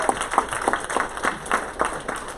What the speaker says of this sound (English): Give him a big round of applause, Peking Duck, everyone.